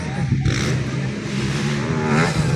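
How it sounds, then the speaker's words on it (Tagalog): A 250cc motocross motorcycle engine screams at high revs during a race, a loud continuous buzzing whine that surges and rises near the end, with crowd noise underneath. "250 lang yata itong dala niyang motor eh. Kaya ganun sumigaw."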